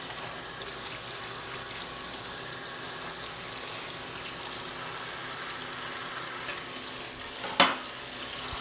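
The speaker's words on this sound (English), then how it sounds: "wash our hands because we touched jalapeno" Running tap water splashing steadily into a kitchen sink while hands are washed, a soft continuous hiss with a brief sharper splash near the end.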